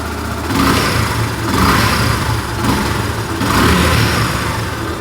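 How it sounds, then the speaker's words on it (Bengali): A Yamaha FZS v2 motorcycle in fresh condition idles nearby, its steady engine rumble rising and falling gently in slow repeated swells. "এবার চেষ্টা করবো বাইকটা স্টার্ট করে আপনাদেরকে সাউন্ডটা শোনানোর। বাইকটা কিন্তু স্টার্ট করা হয়েছে"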